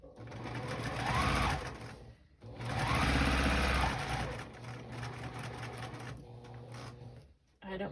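A sewing machine stitches a quilt block for a wonky star design, running in two loud sustained bursts with a brief pause between, then a quieter stretch of handling.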